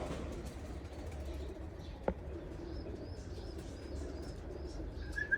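Tiger dove pigeons in a breeding loft in Oman make soft cooing and chirping calls over a low steady hum, with a single sharp knock partway through and faint wing sounds.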